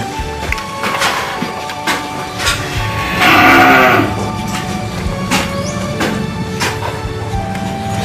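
Beef cattle at a fattening farm in Sragen, with one clear, loud, drawn-out moo near the middle amid the shuffling and clatter of animals feeding in their pens.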